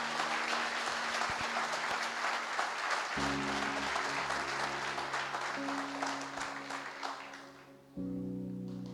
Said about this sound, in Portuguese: Esse é o momento de você aplaudir.